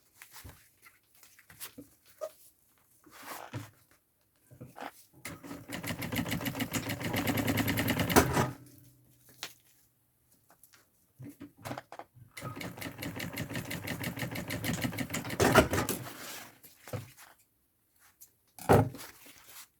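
A sewing machine stitches the lining of an insulated double-compartment backpack in two sustained runs, each lasting several seconds, separated by short pauses with small handling sounds and a brief burst near the end.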